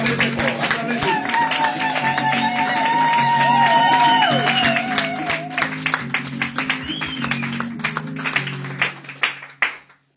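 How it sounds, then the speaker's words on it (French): A church congregation at a pastor's ordination service applauds and cheers loudly, steady rhythmic clapping and whoops over sustained music and singing, with the clapping thinning toward the end. "Acclamez très fort, acclamez Jésus."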